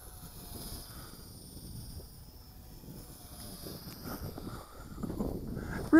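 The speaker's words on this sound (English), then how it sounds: "Really nice flying plane." An XK A260 Rarebear 3D 6G stabilized four-channel RC airplane flies outdoors in cold weather, its faint distant motor whine drifting under wind noise and swelling slightly near the end.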